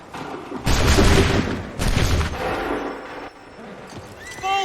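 Musket volleys fired by ranks of soldiers on a battlefield in Assassin's Creed 3, two loud, crackling bursts close together, each trailing off in a rumbling echo, with a horse whinnying faintly near the end.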